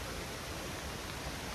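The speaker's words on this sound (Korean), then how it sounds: "지금 옆에 물소리 들리시죠?" A mountain valley stream flowing beside an earthen hiking trail, heard as a steady, soft, even rush of running water with no other sounds, faint and continuous throughout.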